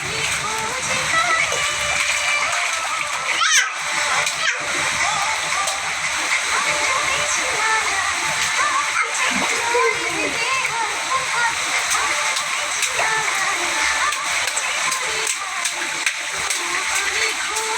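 A child splashes and plays in water that has flooded a veranda, a steady pouring, splattering wash over the whole stretch with scattered slaps and a voice speaking over it.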